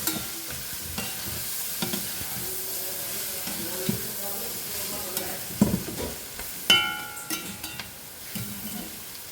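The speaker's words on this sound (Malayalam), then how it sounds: "3-ാം വട്ടം ഇളക്കുക." A beans stir-fry with onion and coconut being stirred in a pan, with a steady sizzle and frying hiss broken by scraping stirs and a few sharper clanks against the pan.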